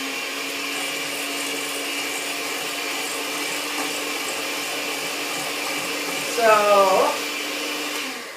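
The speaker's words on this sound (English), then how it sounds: "So you see here, egg yolks and sugar, blender in." An electric blender whirs steadily while mixing egg yolks and sugar in a kitchen, a constant motor drone with a brief louder surge near the end as the pitch shifts; a voice speaks briefly at the start.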